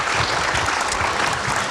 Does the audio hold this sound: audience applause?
yes